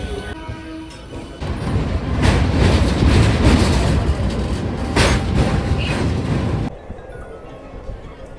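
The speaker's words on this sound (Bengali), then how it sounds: "জাস্ট ট্রেনটা ছেড়ে দিল, এখন বাজে সকাল 9:30।" A Medinipur local passenger train pulls away and runs, giving a loud, continuous rumble with rhythmic clattering of wheels over rail joints heard from inside, building after a quieter start and dropping off abruptly near the end.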